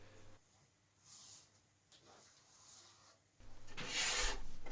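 A steel card scraper rasps lacquer off a wooden tabletop in a few separate strokes, quiet at first, then a longer, louder, hissing scrape near the end.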